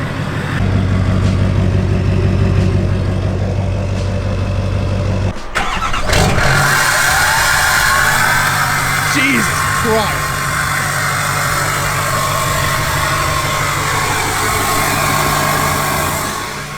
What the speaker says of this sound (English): That thing sounds gnarly. You can hear the turbo.